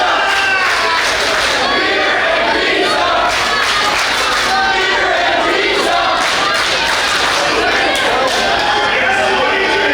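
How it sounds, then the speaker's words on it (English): A pro wrestling crowd at a Central States Wrestling show in Kansas City chants and shouts together, a dense, loud, continuous roar of many voices filling the hall throughout. "the crowd is chanting beer and pizza"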